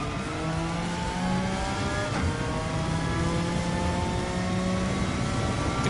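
A race car engine in Gran Turismo 7 winds up through the gears with steady, loud revving, pitch climbing and resetting at each shift, running continuously with no talk.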